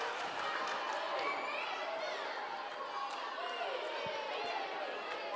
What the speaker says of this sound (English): Round of applause, Portugal.